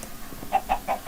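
A chicken in a video game labyrinth gives four quick, evenly spaced clucks, clear and fairly close, with no talking.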